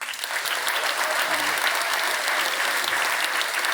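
A conference audience gives the organizers a big hand, producing dense, continuous applause from a large crowd that holds steady for several seconds, with no speech over it.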